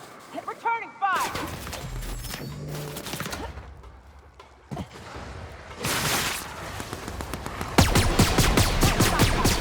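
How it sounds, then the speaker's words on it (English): Gunfire exchange in the sci-fi game The Outer Worlds: rapid volleys of shots crackling in dense bursts, loud and close, building toward the end, with voices speaking and game ambience between the volleys. "Returning fire!"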